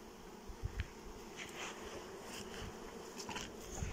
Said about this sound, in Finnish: Tällaisten mehiläisten kanssa on kiva tehdä töitä.